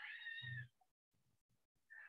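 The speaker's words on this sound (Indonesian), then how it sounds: "ada suara kucing ya" A domestic cat meows twice, close and fairly clear, with a short drawn-out call first and a second briefer meow after a quiet gap marked by faint soft thumps.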